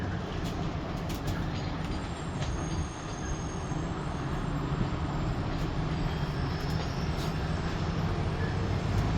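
The Rocky Mountaineer passenger train passes through Mission City Station with a continuous loud rumble of rolling wheels, faint metallic squeals and clicks over the rails, steady from start to finish.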